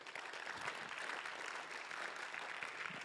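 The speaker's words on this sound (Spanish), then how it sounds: "Dar un aplauso al Señor." A church congregation claps together in steady applause, a dense, even wash of hands that holds at a fairly quiet, distant level for the whole stretch without pause.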